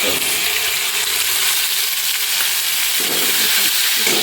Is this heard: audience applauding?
no